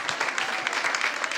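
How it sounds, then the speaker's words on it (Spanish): A church congregation claps in a steady, even patter of many hands, moderately loud, with no voices standing out above it. "Dale ese aplauso a este Dios en el cual creemos"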